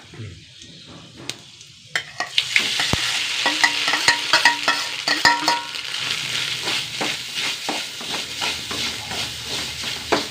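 Loud, steady sizzling of coconut frying in hot oil, with a utensil repeatedly scraping and stirring in the pan after a quieter start.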